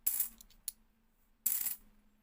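Coins tipped out of a bag onto a surface, two bright metallic bursts of jangling and clinking with a single chink between them, close and crisp.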